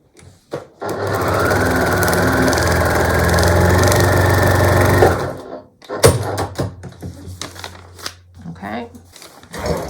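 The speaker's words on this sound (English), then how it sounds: "I'm going to hold it in place as best I can, and then sew along this line." A sewing machine stitches a seam on a scrappy log cabin quilt block, a steady loud whirring run of about four seconds close by that stops abruptly, followed by handling noises and brief speech.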